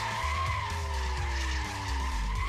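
Tires skid and squeal in a burnout in the racing game Street Legal, with the car's engine badly damaged; a loud, continuous screech over a steady low engine drone, alone and sustained throughout.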